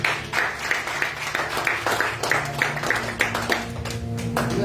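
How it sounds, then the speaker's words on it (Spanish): Congregation at an evangelical church service applauds in praise, a dense, steady wash of many hands clapping with rhythmic accents, close and loud for several seconds, with a faint voice underneath. "Aplauso a Cristo."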